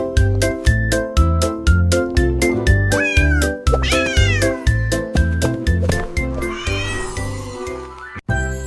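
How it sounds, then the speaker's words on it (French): A cat meows repeatedly, with a steady rhythmic beat and melodic music running throughout; the meows sit prominently over the backing, ending in a brief sharp sound. "Un chat qui ronronne et qui est idiot."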